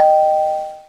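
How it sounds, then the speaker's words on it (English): A doorbell rings in a Minecraft animation, a single clear electronic tone sounding loud at first and then slowly fading out. "It won't stop ringing the doorbell!"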